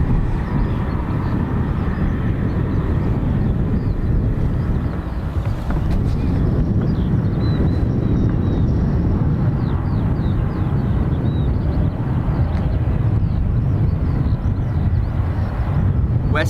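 A JetBlue jet airliner bound for JFK at Dublin Airport gives a steady, broad engine roar and wind-blown rumble that holds for the whole stretch without any talking.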